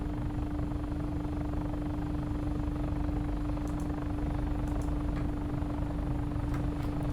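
A helicopter rotor and engine drone loudly and steadily in the Take On Helicopters video game, with the rotor brake applied. The noise is a dense, constant roar with a sustained hum and a few faint high ticks.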